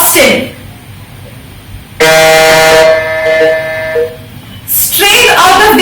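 A quiz buzzer sounds sharply for about two seconds during an all-India quiz quarter-final, its harsh tonal blare standing out against background talk and crowd noise.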